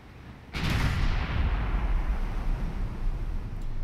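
Naval gunfire in the Ultimate Admiral Dreadnoughts warship game: a sudden loud blast erupts after a brief lull, then sustains as a heavy, rumbling roar of cannon fire and ricocheting shells, with no talking.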